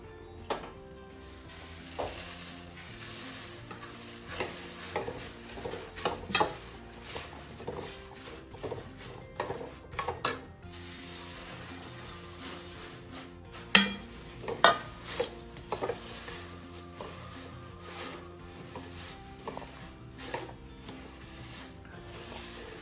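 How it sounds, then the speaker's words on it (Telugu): Puffed rice is stirred into laddu mixture in a pan, with a spoon scraping and knocking against the metal in uneven bursts and a soft rustle from the grains, heard up close. "ఇప్పుడు బొరుగులు వేసుకొని కలుపుకుందాం"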